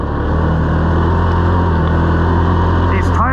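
Engine of a Can-Am Outlander XT-P Max 1000R ATV on ITP Cryptic 30-inch tires drones steadily and loudly while climbing an icy hill, with a rising whine near the end and someone talking over it.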